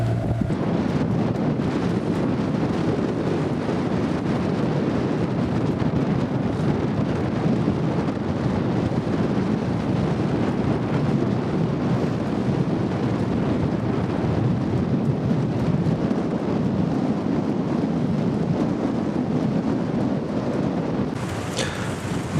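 Strong wind roars across the microphone on a boat crossing the Deben Bar near Felixstowe Ferry, a loud, continuous buffeting rumble that lasts throughout with no talking.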